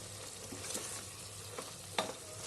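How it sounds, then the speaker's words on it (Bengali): Goat leg curry sizzles in a hot pan as water is poured in, giving a continuous frying hiss with a few sharper spits and crackles, close and moderately loud. "এবার আমি এতে জল দিয়ে দেবো।"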